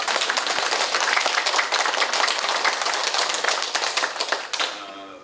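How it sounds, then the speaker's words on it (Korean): A church congregation claps loudly together, a dense, vigorous burst of many hands that holds steady before cutting off abruptly near the end. "박수 치는 거 한번 크게 한 번 더 좀"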